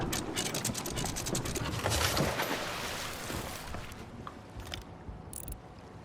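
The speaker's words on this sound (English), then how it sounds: "Use your anchor as a brake, not as a, like, emergency brake or whatever. So drop it, but then raise it right away." Ship's anchor chain dropped and then raised in a video game, a rapid rattling ratchet of chain links running through gears, loud at first and then easing into softer mechanical clicking.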